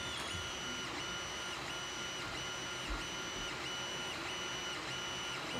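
A 3D printer at work on an articulated dragon model, its stepper motors whining and buzzing in a steady, continuous hum with faint periodic clicks, heard on its own.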